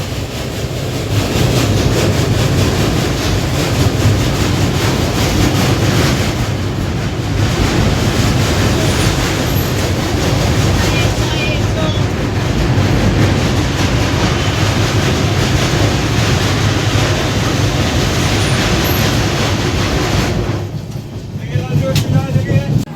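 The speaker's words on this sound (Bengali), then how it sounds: "আমাদের ট্রেন চলে এসছে মুর্শিদাবাদে" A passenger train rolls toward Murshidabad station, a loud, continuous rumble and clatter heard from inside the carriage with wind roar, easing briefly near the end.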